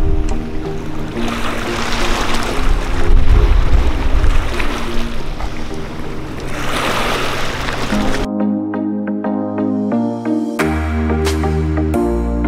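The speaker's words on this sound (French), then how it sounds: "avec le bruit des vagues." Ocean waves wash and surge loudly and continuously for about eight seconds. Then an unrelated tonal, music-like sound takes over.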